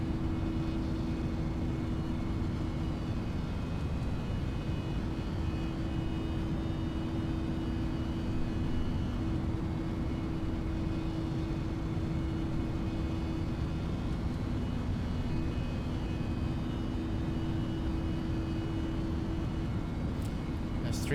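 A Pegasus Airlines airliner's engines in the Prepar3D flight simulator during thrust reduction give a steady, loud, low droning roar that stays even for about twenty seconds.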